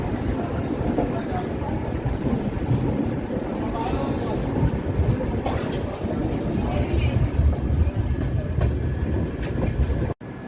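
Yoga Express passenger train running on the line between Gujarat and Rajasthan, a steady loud rumble of wheels and carriage noise throughout, with faint voices in the background and a brief drop at the very end.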